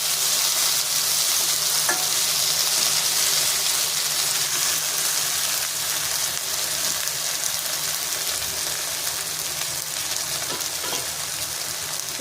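Sliced okra and onion fry in a pan with a steady, dense sizzle that stays even and close for the whole stretch, with faint stirring clicks and no talking.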